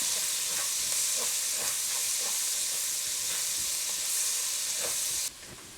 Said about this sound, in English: I'm gonna use the onion to help me deglaze the bottom of this pan, get up all that bacon goodness